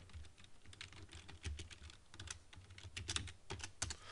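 Quiet, rapid keystrokes on a computer keyboard while typing an axis label into an Excel 2007 chart, the clicks coming in quick irregular bursts, close up and without speech.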